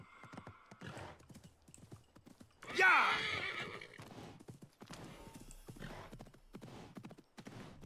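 In Assassin's Creed Mirage, a donkey's hooves clop in a steady rhythm beneath a loud whinny, with people talking throughout.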